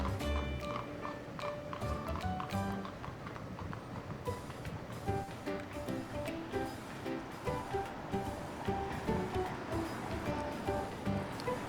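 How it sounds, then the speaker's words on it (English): A horse and carriage clip-clop along a town street, with a steady run of moderately loud hoof strikes over background traffic and rumble throughout. "a horse and carriage"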